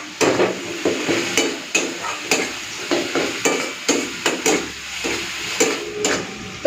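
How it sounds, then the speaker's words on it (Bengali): Masala for a prawn curry is stir-fried in a pan, with a rhythmic series of scraping spatula strokes over a soft sizzle, close and fairly loud. "এরপরে ভালো করে কষে নিই।"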